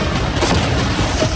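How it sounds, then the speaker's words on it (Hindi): Cannons pound a yacht in a loud, dense burst of booming blasts that run together into a continuous rumbling barrage for a moment. "वो कैनन अभी से शॉन की यॉट को तोड़ रहे थे"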